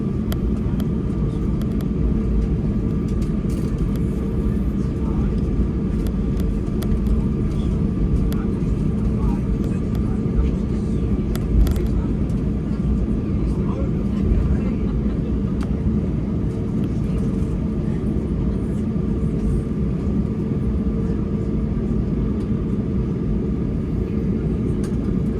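A British Airways airliner taxiing to the gate after landing in Glasgow, heard from inside the cabin as a steady, even engine rumble and hum lasting throughout, with faint voices underneath.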